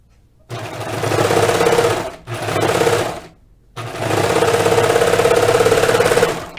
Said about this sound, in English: Serger's a little louder than my industrial machine, huh?